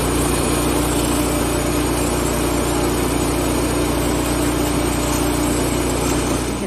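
A saw ripping a thick piece of wood into veneer runs as a loud, unbroken engine-like drone throughout, steady in level with no pauses or voices.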